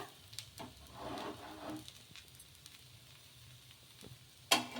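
Ladies finger ravva dosa fries in oil on a pan with a faint steady sizzle and a few soft scrapes and ticks, quiet and close with no talking.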